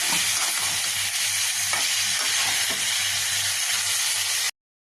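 Boiled papaya and vegetables get stirred into a curry frying with browned garlic, producing a loud, continuous sizzle with scraping stir strokes, close up and alone, cutting off abruptly near the end.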